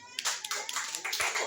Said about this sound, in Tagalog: Sa palakpak sa Panginoon.